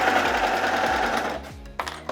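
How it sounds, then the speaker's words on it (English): An overlocker sews the side seams of a wrap dress, running in a steady fast whir close by, then slowing and stopping with a few short clunks at the end. "I'm at my overlocker now, and all I'm going to do is sew down the side seams"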